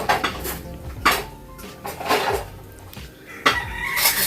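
Cooking pots clattering and banging in a kitchen, repeated loud metallic clanks and scrapes in irregular bursts, close and sharp.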